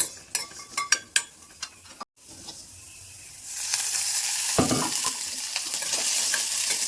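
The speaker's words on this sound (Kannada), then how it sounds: "ಅದೇ ಬಾಣಲಿಗೆ ಈರುಳ್ಳಿ ಹಾಕೊಂತ ಇದ್ದೀನಿ. ಸ್ವಲ್ಪ ಓಕೆ, ಸ್ವಲ್ಪ ಎಣ್ಣೆ ಹಾಕೊಂತೀನಿ" Several quick metallic clinks and taps of a utensil, then onions dropped into oil in a pan set up a strong, steady sizzle that grows louder and continues to the end.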